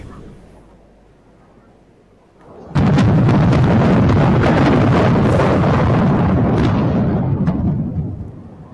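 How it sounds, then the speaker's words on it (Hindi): Missile strikes during an Iranian attack on Israel, with a sudden heavy roar bursting in after a quiet stretch and then rumbling loudly for several seconds before easing off slightly at the end. "इसके अलावा मुख्तलिफ इलाकों पर इस वक्त भी मिसाइल दागे जा रहे हैं।"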